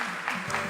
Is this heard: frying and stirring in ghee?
no